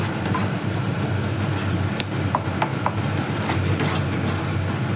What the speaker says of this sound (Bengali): এইবার এই পেঁয়াজের সাথে ডিমটাকে আমি খুব ভালো করে ভেজে ঝুড়ো ঝুড়ো করে নেব